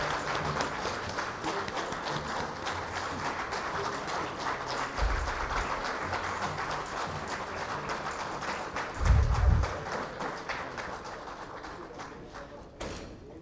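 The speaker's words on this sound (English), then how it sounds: "let's give him a warm round of applause" Audience applause at an India Today event, steady dense clapping throughout with a few louder thumps, no talk over it.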